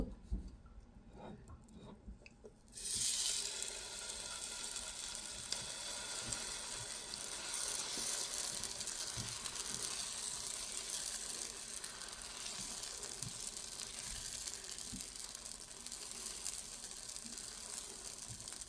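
A snack for a children's tiffin sizzles steadily in a pan after being flipped, a dense continuous hiss that starts abruptly a few seconds in and holds loud and even, with faint clinks and no talk.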